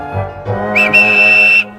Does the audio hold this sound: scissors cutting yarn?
no